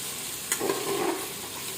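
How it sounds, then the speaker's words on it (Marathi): Beetroot being stirred with masala in a frying pan, a soft scrape and a brief clink over a steady low sizzle, close and quiet. "मिक्स करायचं. ते मसाला सगळं परतायचा जो आता आपण टाकलेला आहे."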